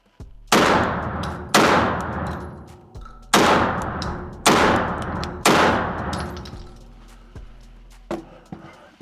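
Five loud, booming 12 gauge shotgun blasts from a MAC 1014 semi-auto fired at roughly one-second-plus intervals, each with a long decaying tail, followed by a fainter thump near the end.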